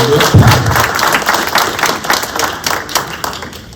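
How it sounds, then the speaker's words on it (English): An audience claps steadily at a makeup effects competition placings announcement, a dense sustained patter of hands with a brief voice near the start, fading slightly toward the end. "Can I give him a round of applause?"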